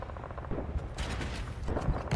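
Gunfire in the Delta Force video game: rapid bursts of shots crackle over a dense, noisy battle backdrop, fairly loud and continuous.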